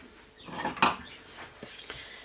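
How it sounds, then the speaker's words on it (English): A wooden spoon stirs and knocks against a pot of milk heating toward a simmer for homemade cream cheese. A few close, scraping clinks and taps come at an uneven rhythm over a quiet background, with no talking. "I'm just going to use a wooden spoon"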